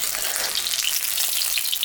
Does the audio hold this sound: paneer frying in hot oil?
yes